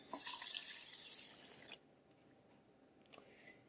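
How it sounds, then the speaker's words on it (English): Water is poured into a rice cooker holding jasmine rice, a close splashing pour that runs for almost two seconds and then stops, with a faint clink afterward. "let's add a cup of water."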